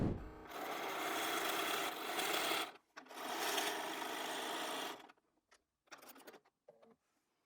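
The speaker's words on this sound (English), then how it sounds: "So I'm just going to the sewing machine now to do that." Sewing machine running steadily as it stitches quarter-inch seams in fabric backed with grid interfacing for an appliqué wall hanging, two long bursts of motor hum with a brief pause, then short stop-start runs fading out.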